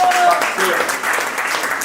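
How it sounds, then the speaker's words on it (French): An audience applauding the translators at the close of a day-long event; a dense wash of clapping from a crowd, loud and continuous, with a voice speaking over it. "On les applaudit énormément"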